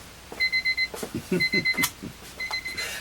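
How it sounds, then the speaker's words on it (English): A small kitchen timer goes off near the mic with repeated bursts of shrill electronic beeps in three quick groups, the alarm marking a mold finished draining during work on a 1978 Michael Myers mask. "My little timer. This tells me that my mold is done draining down there."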